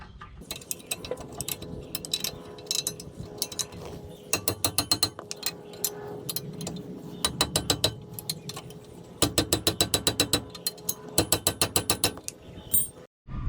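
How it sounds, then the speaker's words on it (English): Ratchet wrench tightening the two brake caliper bolts on a 2002 Toyota Corolla during a front brake pad and rotor job, with repeated bursts of rapid, loud metallic clicking separated by brief pauses, close to the microphone. "So I'll be tightening up the 2 bolts."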